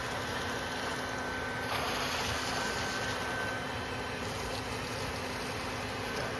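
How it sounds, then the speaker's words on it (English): A steady, loud mechanical whir of a Colorado bee vac motor collecting a honeybee swarm runs continuously throughout, with a constant tonal hum and no pauses. "This vacuum cleaner here is the only way to go."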